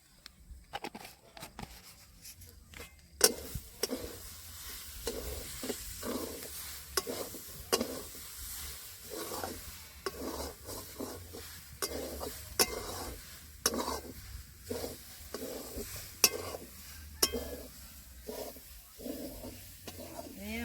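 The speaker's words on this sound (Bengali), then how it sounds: "নাড়তে থাকবো। নাড়তে নাড়তে হয়ে যখন আসবে তখন নামিয়ে নেব।" Coconut and rice flour mixture being stirred in a pan, with repeated scraping strokes in an irregular rhythm over a faint sizzle, close and moderately quiet, no talking.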